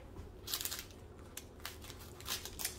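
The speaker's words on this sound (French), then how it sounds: "C'est là qu'on a le diamant AB, donc je vais le couper." Scissors cut through a diamond painting strip with a few crisp, faint snips and light crinkling of the plastic sheet, all close and quiet.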